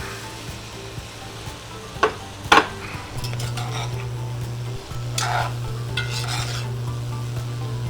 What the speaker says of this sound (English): I'm going to go ahead and dump my brisket in.